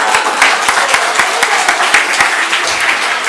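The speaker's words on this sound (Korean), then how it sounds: "박수 한번 해주세요." Congregation applauding at a Sunday afternoon church service, loud close rhythmic clapping from many people that stays steady throughout.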